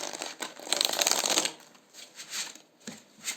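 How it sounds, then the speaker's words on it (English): Tarot cards are shuffled by hand up close, a dense riffling burst for over a second followed by a few softer, separate flicks and slides of the deck. "And I want to shuffle just once more."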